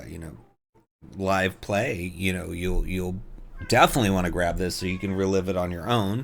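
A pet cat meows somewhere in the background of a room while a person keeps talking over it, the cries faint and mostly buried under the steady speech.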